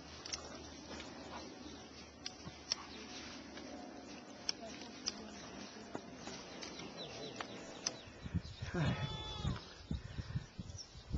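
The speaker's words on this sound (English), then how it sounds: "a lot of goats in the trail to Stavros." A few short goat bleats ring out near the end over a steady outdoor background on a hiking trail on the Akrotiri Peninsula, with faint scattered clicks and movement earlier on.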